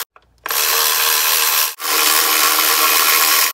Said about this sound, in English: now take a 10-millimeter socket, just remove all four of these